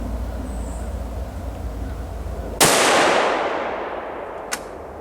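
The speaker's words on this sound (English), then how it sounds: "now we're going to shoot the right-hand target with the Hornady VMAX" Single rifle shot from a Ruger American Ranch rifle loaded with Hornady VMAX ammunition, a sharp loud crack with a long fading echo, followed by a faint click, over quiet outdoor background.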